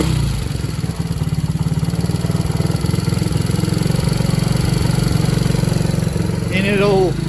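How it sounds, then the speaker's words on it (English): A Tao Motors 125cc ATV engine idling, a steady, close, rhythmic chugging putter that holds evenly throughout, with a brief voice near the end. "it'll fire right up and sit there and idle"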